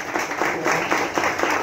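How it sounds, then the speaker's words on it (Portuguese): Audience applause at the end of a lecture on tax system changes, a short burst of many hands clapping in a hall with faintly rhythmic pulses, fairly close and without speech. "A você, uma salva de palmas."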